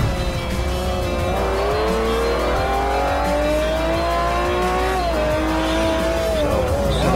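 A Lamborghini Aventador in Forza Motorsport 4 on the Nürburgring, its engine loud and continuous as revs climb and dip, with tire squeal and skidding as the car slides through corners.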